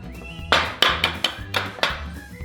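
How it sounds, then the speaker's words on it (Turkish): Several sharp knocks of an egg striking a bowl edge, followed by a crack, close and clear with no talk, while breading for crispy fried cheese sticks is prepared. "Şimdi yumurtamı kıracağım."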